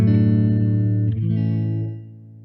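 A clean electric guitar chord rings through a Yamaha THR desktop amplifier, shifts once to another chord, then fades out, with no talking.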